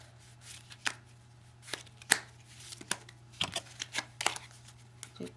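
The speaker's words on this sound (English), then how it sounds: "Shuffles." A deck of playing cards being shuffled by hand, a run of crisp riffling bursts and taps at irregular intervals, close and fairly loud, with no talking.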